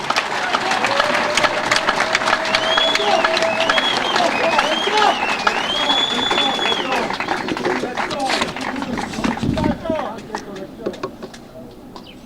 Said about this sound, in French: Applaudissez très fort pour le chef de l'État.